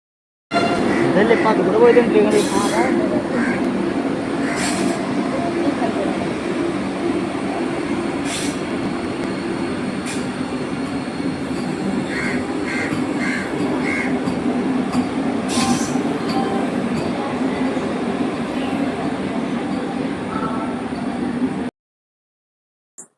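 A train rumbles steadily alongside, wheels clattering with occasional high metallic squeals, continuous and close for about twenty seconds before stopping abruptly; people speak faintly.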